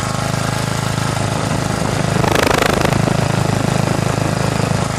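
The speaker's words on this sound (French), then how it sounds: "Donc voilà pour le générateur qui donne bien du 230 volts." A propane-powered electric generator putting out 230 volts runs with a loud, steady engine drone and buzzing hum, swelling briefly in the middle before settling back to an even idle.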